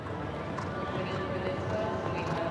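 Horse hooves thudding in a steady galloping rhythm across an outdoor show jumping arena at a five-star Grand Prix event, heard under continuous commentary.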